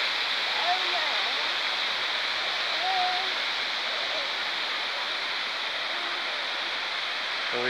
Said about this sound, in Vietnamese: Thác đẹp lắm các bạn à.